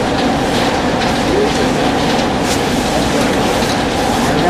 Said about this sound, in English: That you see is a monorail. That is our means of transport.